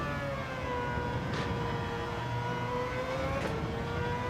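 A race car engine in Gran Turismo 7 holds a steady, loud drone with strong harmonic tones that rise gradually through the revs. Two brief gear-shift blips cut in, with no voices over the constant engine note.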